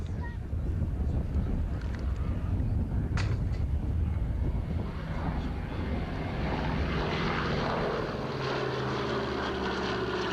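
Propeller aircraft flying at the Wings Over The Illawarra 2022 air show, recorded on a 1980s VHS camcorder: a loud, continuous droning engine roar mixed with wind buffeting, slowly shifting in tone as the plane passes.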